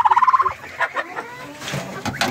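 Free-range chickens cluck in a quick run of about eight rhythmic calls, followed by scattered softer clucks and rustling as straw is spread in their pen, all close by.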